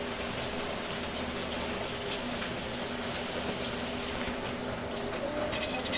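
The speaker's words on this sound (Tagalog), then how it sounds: "lakas ng ulan" Heavy rain pours down in a constant, dense hiss with a watery rush underneath, steady throughout and without any talking.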